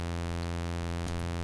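A steady sawtooth wave from an ETI 4600 synthesiser oscillator, a bright, buzzy, constant low-pitched tone rich in harmonics, holding at even loudness throughout with one faint click near the end.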